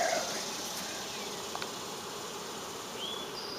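Honey bee swarm clustered on a tree limb outdoors, a steady soft buzzing hum continuing throughout, fairly faint with a few brief sharper sounds.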